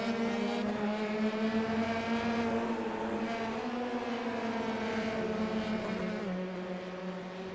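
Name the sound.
race cars racing in a sim racing video game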